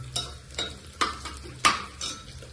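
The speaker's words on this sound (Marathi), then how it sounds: "त्याच्यामध्ये अद्रक आणि लसूणची पेस्ट टाकून घेतो" Ginger-garlic paste fries in a pan with a low sizzle, while a spoon scrapes and taps against the metal in several brisk stirring strokes.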